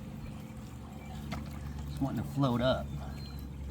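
A Wybot S2 solar robot pool cleaner's motor hums steadily at the waterside while it purges water with a soft pouring trickle, largely under close conversational speech.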